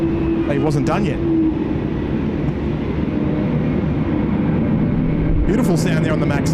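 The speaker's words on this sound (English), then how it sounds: "Beautiful sound there on the Max 8 starting engines." A Boeing 737 MAX 8 jet starts its engines at Sydney Airport, a steady loud whine and rumble that stays constant, with speech over it at moments.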